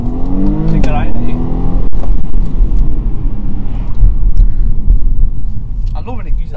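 BMW M135i accelerating hard, a loud continuous engine roar and rumble heard from inside the car, with voices talking over it.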